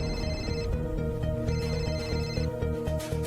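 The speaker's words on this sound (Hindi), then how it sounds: "इतनी देर से फोन बज रहा है, कोई फोन क्यों नहीं उठा रहे?" Repeated electronic telephone ringing in a domestic drama scene, steady bursts of bright tones pulsing close and loud with no voices.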